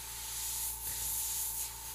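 A steady airbrush hiss of spraying paint for custom free-hand lettering and skull artwork, continuous and fairly close with slight swells in intensity and no talking.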